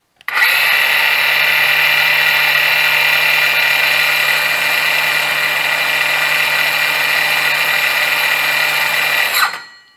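Brushless cordless circular saw spins freely at its lowest speed setting, a loud, steady high-pitched whine with a faint low hum that starts abruptly, holds for about nine seconds, then winds down.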